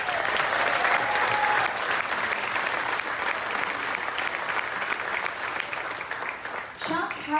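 Cruise-ship audience at a salute-to-heroes event applauding veterans, steady loud clapping through most of the clip that fades before a voice speaks at the end.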